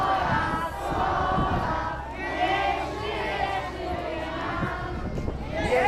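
Crowd of Słupsk residents chanting together at an outdoor charity picnic, a dense, continuous mass of voices with rhythmic shouted phrases, loud and sustained throughout.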